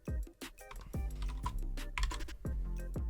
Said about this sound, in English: I'm just gonna type it and hope.